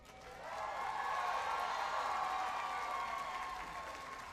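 Graduation crowd at a 2019 commencement applauds the teachers, a broad swelling wash of clapping and light cheering in a large hall that builds, holds and slowly tapers.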